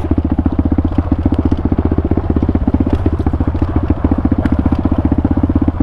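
A 2023 Pitster Pro 190fse dirt bike runs off-road in the mountains with a loud, close, rapid single-cylinder engine pulse, steady and throbbing throughout, with small clatters over it.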